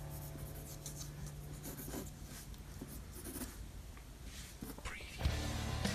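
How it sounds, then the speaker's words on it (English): A pencil drawing light lines on paper while sketching a comic character, a faint close scratching that comes in short, soft strokes over a quiet room hum, ending in a slightly louder rub. "I'll come straight over like this with a light line"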